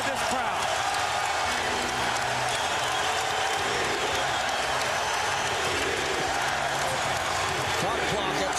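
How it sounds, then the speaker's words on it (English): Loud, steady roar of a basketball arena crowd cheering during the 2001 NBA Finals, Lakers at 76ers in Philadelphia, a dense continuous wash of voices and noise under a commentator's talk. "They are back in the game, and listen to this crowd."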